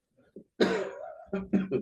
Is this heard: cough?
yes